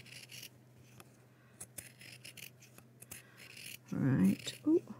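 Scissors snip around a fabric circle for a sewing cushion, a run of soft close rasping cuts ending in a louder, fuller burst of cutting near the end.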